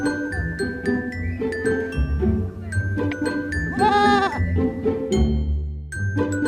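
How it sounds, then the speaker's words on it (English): Goat bleating in a quavering, drawn-out call near the middle, set over a busy bed of bright, tinkly children's music that plays throughout. "Goat sounds."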